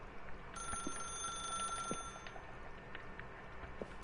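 Telephone ringing inside the video game The Stanley Parable, a steady electronic ring with thin high tones sustained over several seconds above a low hum and faint clicks.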